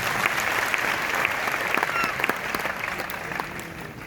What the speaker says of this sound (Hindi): तो आपके लिए एक जबरदस्त ताली है।